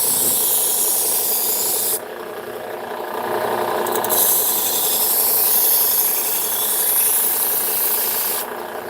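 A KitchenAid kitchen knife is ground on a sharpener, producing a steady, loud abrasive rasp in long continuous passes with brief pauses between strokes.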